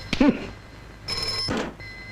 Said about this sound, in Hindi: एक्सक्यूज मी, मेरा फोन।